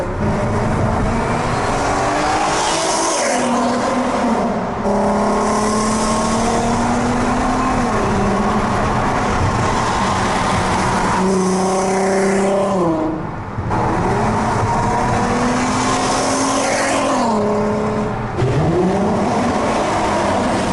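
A 2008 Volkswagen R32 with a VR engine and a small exhaust revs and drives loud and close, pitch rising through the gears with brief dips at shifts, engine and exhaust roar steady throughout.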